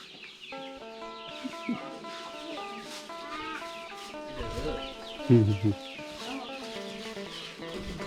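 Chickens cluck in a rural home garden in Laos, scattered clucks and short calls over quiet background, with a few louder bursts near the middle and a voice talking faintly beneath.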